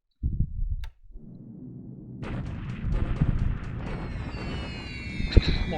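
Troops are bombed in a WWII strategy video game: a short burst of booming blasts is followed by a rumbling barrage of explosions and crackling fire, loud and continuous, with a sharp bang near the end.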